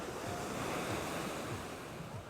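Ocean surf at Waimea Beach on Hawaii's North Shore, with steady waves washing in and breaking close by and a continuous roar overlaid by gusty wind buffeting the microphone.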